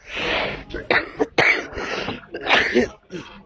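A woman coughs repeatedly in harsh bursts, several close, throaty hacks in an uneven rhythm with short gaps between them.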